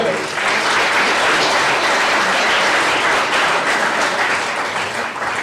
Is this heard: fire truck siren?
no